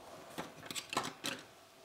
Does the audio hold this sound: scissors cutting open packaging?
yes